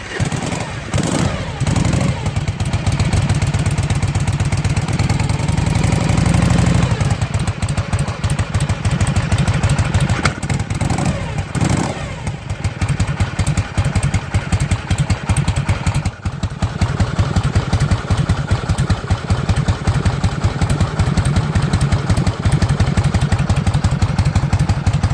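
A 1965 Harley Panhead replica engine idles after a cold start without choke, a loud, close, lumpy rhythmic chugging and clatter that runs unevenly throughout with a few revs and dips.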